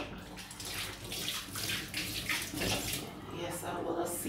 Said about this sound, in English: Just let me wash my hand again.